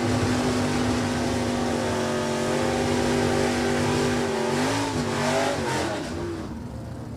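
Drag racing cars at a dragstrip, a Plymouth Cuda and a 1969 Camaro in stock automatic classes, roar loudly and steadily as engines rev and climb in pitch down the track, with no talk over them.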